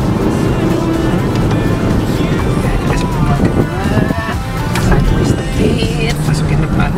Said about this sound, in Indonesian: Tuh, mobilnya bisa drifting.